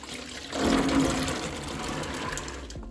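Water sloshing and pouring off soaked black beans as they are drained, a rushing liquid pour that swells after the start, holds steady and tapers off near the end, close and alone.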